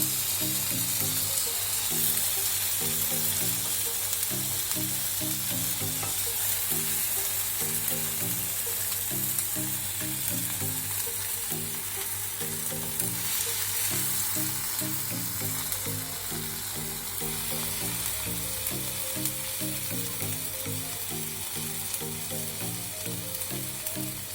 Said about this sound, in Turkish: Şimdi bu tarafını kızartıyorum.